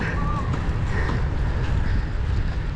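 Strong headwind buffeting the microphone in a constant low roar while cycling from Tuguegarao to Aparri in northern Luzon, with water and motion noise beneath and a faint voice mixed in.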